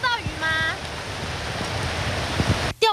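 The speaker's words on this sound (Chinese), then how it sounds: "携带惊人雨势，可以看到河面上面水流现在是非常的湍急" Heavy typhoon rain pours steadily over a swollen, fast-rushing river, the Xindian River, making a dense continuous wash of water noise with a voice briefly audible at the start.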